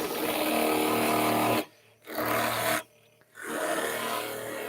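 A carving chisel being polished during sharpening gives a steady, loud rasping rub, broken into three bursts by two short pauses.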